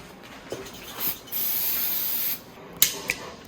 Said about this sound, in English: Now we're gonna clean it up with some brake cleans.